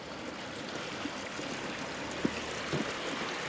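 Water seeping and trickling through a closed gate at Bakhchisaray reservoir near the Kacha river, a steady broadband rushing wash with faint knocks, continuous and moderately loud with no talking.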